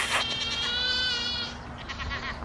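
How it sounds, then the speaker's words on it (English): Nigerian Dwarf goat kids cry with a loud, wavering, high-pitched bleat up close on a farm, one drawn-out call followed by a shorter second cry, heard alone without talk. "Now I know why they call them kids! They cry just like them!"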